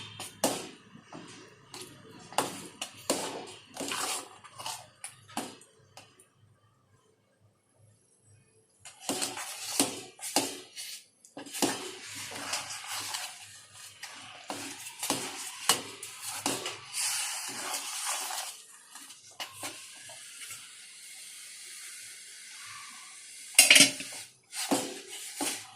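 A spoon scrapes and clatters against a pot while semolina dough cooks and is stirred for rava kurdai, in irregular bursts of metallic knocks, with a quiet pause partway through.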